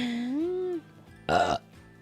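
A single drawn-out burp, loud and close, rising and wavering in pitch, followed by a short gap and then a brief burst of noisy voiced sound.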